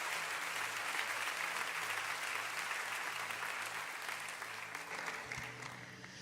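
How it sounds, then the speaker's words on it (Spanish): A church congregation gives sustained applause during a Spanish-language worship service, a dense, steady clapping that continues throughout before tapering slightly at the end. "Vamos a dar un aplauso al Señor."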